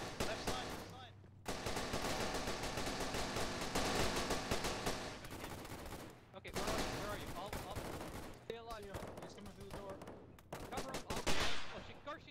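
An MG3 machine gun in ARMA 3 fires long sustained bursts in rapid rhythmic chatter, loud and close, broken by brief pauses, with other gunfire mixed in and voices talking over it.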